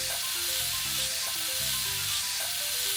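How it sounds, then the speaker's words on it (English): Prepped pork belly sizzles on a hot solid iron grill plate for Korean samgyeopsal, a steady loud frying hiss with soft background music throughout. "Once the grill is nice and hot, lay down your prepped pork belly"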